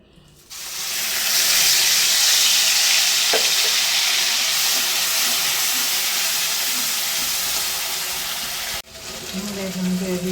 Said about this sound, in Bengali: ভাজা কড়াইটার মধ্যে সাদা তেল দিয়েছি। তারপরে এই পেস্টটা ছেড়ে দেবো।